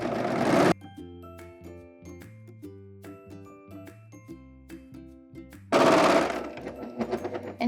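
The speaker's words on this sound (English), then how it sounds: "I'm gonna serge the hem just to finish it so it's not fraying while I'm working with it" A serger overlocker finishes the hem of a slip dress in two loud, dense whirring bursts, one brief at the start and one longer at the end, with soft background music in the quiet stretch between.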